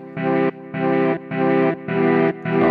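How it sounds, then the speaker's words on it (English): Heavily driven filter distortion from the u-he Runciter rack extension in Reason 7, five sustained buzzing synth notes in a steady rhythm, each cut by a short gap, loud and alone. "the harder you hit this, the more distortion the filter itself will generate"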